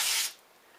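A short, close hiss of spray from a can aimed at a Lumax LX-1404 silver 90-degree grease coupler, cutting off after a fraction of a second into quiet.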